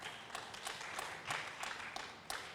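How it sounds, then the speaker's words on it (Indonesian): An indoor audience at an energy-transition event applauds, a steady wash of many hands clapping with a few sharper individual claps standing out, faint and distant. "Aplaus lagi untuk kita semuanya"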